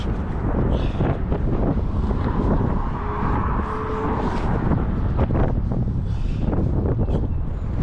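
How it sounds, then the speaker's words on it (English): Strong wind blows outdoors near the water while magnet fishing, rumbling and buffeting the microphone steadily with louder gusts throughout. "Pretty windy out"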